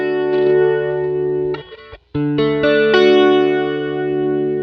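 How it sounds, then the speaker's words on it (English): Sustained chords played through a gentle sweeping flanger from a Kurzweil KSP8 effects unit, blended with the clean tone, ringing loudly with a brief break midway before resuming. "So I like the flange to be a little more subtle."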